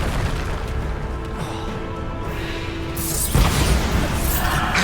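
A Bombarda blast spell in Hogwarts Legacy: a loud, booming burst erupts partway through, following a steady rumbling combat din, close and full-bodied with a lingering crackle.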